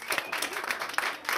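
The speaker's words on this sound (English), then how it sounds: "give me a clap here, who's a foreigner?" Comedy club audience in Turku giving a short burst of clapping, scattered and uneven hand claps at fairly low level, fading in and out over about a second and a half.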